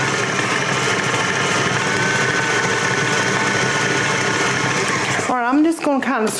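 An electric mixer beats sour cream pound cake batter at high speed, a loud, steady motor whir that runs without a break until a voice speaks briefly at the end.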